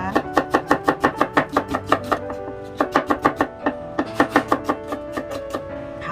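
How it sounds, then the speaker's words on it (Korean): A knife chops an onion on a cutting board in quick, even strokes, about two dozen sharp close knocks in runs with short pauses between them. "양파 썰겠습니다."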